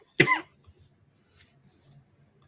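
One sharp, close cough bursts out near the start, then only faint low background murmur follows in a quiet room during a live show.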